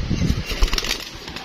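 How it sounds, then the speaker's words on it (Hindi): Pigeons released from a rooftop loft take off together in a close, fluttering burst of wingbeats, with soft rustling and flapping that continues throughout. "ये हमने कबूतर चढ़ा दिए"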